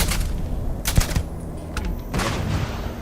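Gunfire in the space game Starfield: a few sharp separate shots, one loud crack near the middle and a couple more around it, set against a constant game soundscape.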